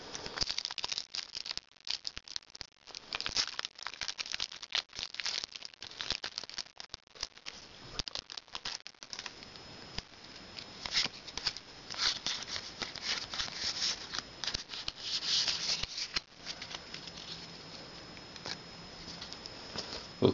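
A Pokemon booster pack wrapper being torn open and cards handled, close crinkling and rapid papery rattles in bursts and patter, no talk.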